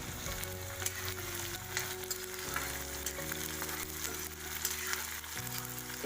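Chopped onion, ginger, garlic and green chili frying in hot oil while being stirred, a dense continuous sizzle with scraping from the stirring, close and loud without any voice.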